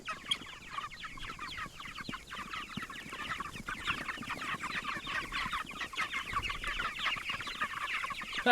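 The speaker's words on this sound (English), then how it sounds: "Stampede of chickens." A large flock of Cornish Cross meat chickens on pasture clucks busily and continuously around feeding stations, many birds at once, the chatter growing denser and louder toward the end.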